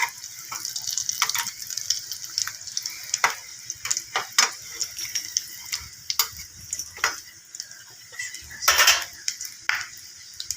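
Egg lobongo lotika snacks deep-fry in oil with a soft bubbling sizzle, punctuated by irregular clinks and taps of a utensil against the pan, heard up close without talk.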